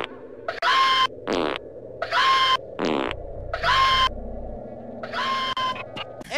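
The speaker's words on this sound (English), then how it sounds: "And then you randomly stumble into this bird that's crapping itself." Cartoonish bird-pooping sound effect in the Glover video game: repeated loud, wet, sputtering fart-like bursts in quick succession over a dark ambient backdrop, with no talking.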